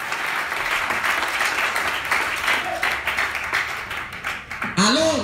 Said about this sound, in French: Acclamez le roi des rois.